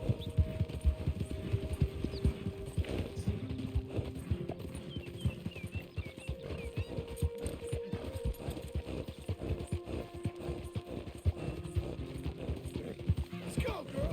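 A horse clip-clops steadily across the ground in the video game Red Dead Redemption, with rhythmic hoofbeats, occasional snorts and game music faintly underneath.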